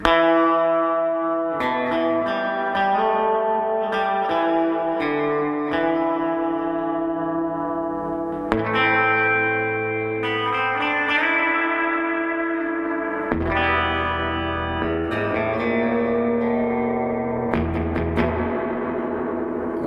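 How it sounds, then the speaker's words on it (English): Electric guitar through a Sweet Blackberry amp with heavy spring reverb, notes and chords ringing out and washing into long, lush decaying tails. "So you already have a serious amount of reverb here."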